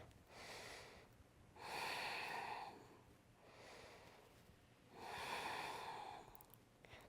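Slow deep breathing during a yoga back-bend session, soft airy inhales and exhales alternating in a calm rhythm, close and quiet.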